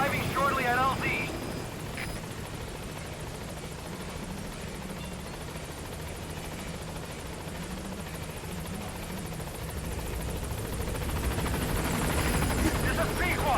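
The Pequod helicopter in a video game arrives at the landing zone, its rotors a steady loud drone that swells near the end while radio voices talk over it.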